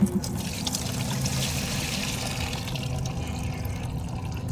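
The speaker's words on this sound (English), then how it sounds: "we're gonna pour out the diesel and just make sure there's no schmoo in the bottom of this" Diesel fuel is poured out of a truck's fuel filter housing in a steady, close trickling stream that continues without break and without talk.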